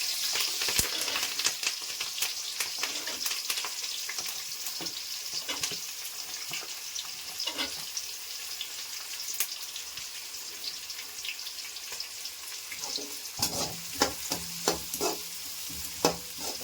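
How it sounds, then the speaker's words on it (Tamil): Onions and curry leaves sizzling and frying in a pan, with a steady crackle broken by clattering stirs of a spoon against the pan and a brief drip or splash of water near the end. "கொஞ்சம் நல்லா ப்ரௌனாக ஃப்ரை ஆகணும்."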